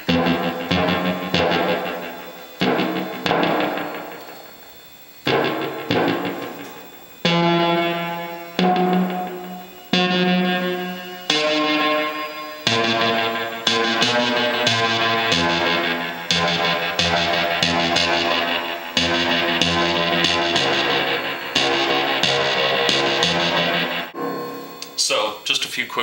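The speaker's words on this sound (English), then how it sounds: "going through the tape delay to give it sort of an echoing sort of noise" Synth samples on an MSSIAH setup play short, decaying tones and chords through a tape delay, each hit followed by a fast, slappy echo, in a loud sequence of bursts and phrases.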